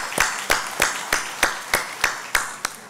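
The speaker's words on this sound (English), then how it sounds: "I give a good round of applause to all of you." A single clapper at a university welcome ceremony gives slow, evenly spaced claps, about nine distinct claps over three seconds, close and moderately loud.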